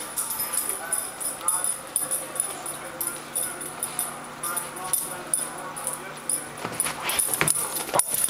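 Puppies whimpering and yipping in a busy indoor scene, with scattered high yelps and shuffling over a steady background hum, fairly loud throughout.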